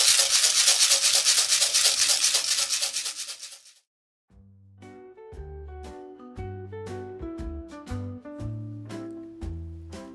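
A homemade shaker of rice in an empty plastic bottle, heard first as a loud continuous rattling swish of grains that stops abruptly, followed by light plucked music.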